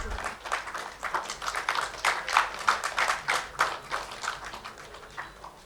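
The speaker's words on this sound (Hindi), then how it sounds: "You can clap for your fellows." An audience claps at a graduation convocation, continuous loud applause with a dense patter of hands that swells and eases over several seconds, while a voice speaks faintly underneath.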